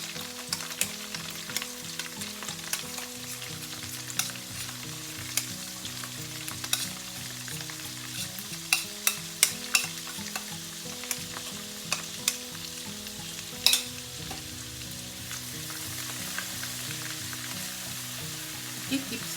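Masala paste for Anglo-Indian sweet mango pickle fries in a pan under constant stirring, a continuous sizzle with frequent sharp spoon scrapes and clicks against the pan, steady and close throughout.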